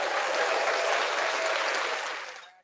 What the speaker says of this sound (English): And I have applause here.